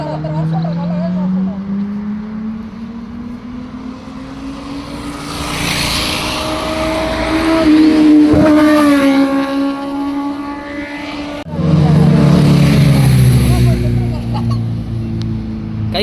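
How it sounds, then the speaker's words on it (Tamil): Superbikes on a coastal highway ride past close by with rising and falling engine drones and a sharp revving surge near the end, heard from a moving motorcycle amid wind noise. "சூப்பர் பைக் வருதாங்க எல்லாத்தையும் வரட்டும்."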